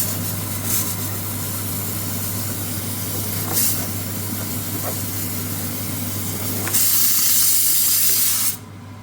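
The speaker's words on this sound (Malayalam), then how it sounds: "ഇതിലേക്ക് നമ്മൾ നമ്മുടെ തയ്യാറാക്കി വെച്ചിരിക്കുന്ന ചെമ്മീൻ ഇട്ട് നല്ലോണം ഒന്ന് ഇളക്കി കൊടുക്കുക." Prawns frying and being stirred in a pan for a Kerala-style prawns roast, giving a steady loud hiss and sizzle with a humming background, brief scraping bursts, and a louder hissing surge near the end.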